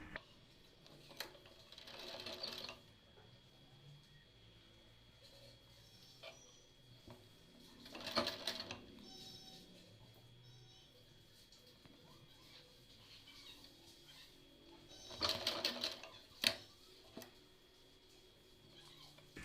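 A sewing machine stitches piping along the edge of a flared frock in three separate short bursts of rattling stitching, with long quiet stretches between them where the fabric is adjusted by hand.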